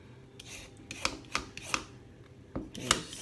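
Carrots being peeled by hand, a handful of short scraping strokes close up, each a quick rasp separated by brief pauses, quiet and alone.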